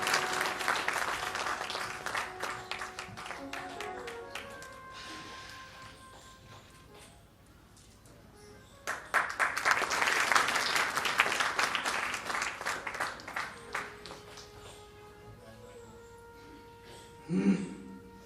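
A seated audience at a Hindu Bhagwat religious discourse claps to welcome a visiting spiritual leader. The applause is loud and sustained, dips briefly, then swells again and tapers off, with a low steady hum underneath.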